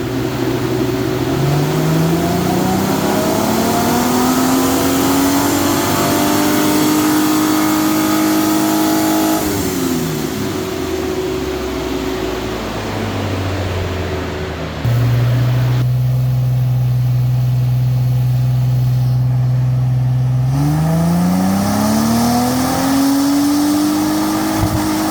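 The 4.0L V6 of a 2010 Mustang revs loudly and repeatedly on a dyno, each pull climbing steadily in pitch before dropping back, with a steady idle between pulls.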